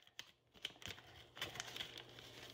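Crinkly plastic rustling in short bursts, close by, with a few sharper crackles as the bag is handled and pulled open.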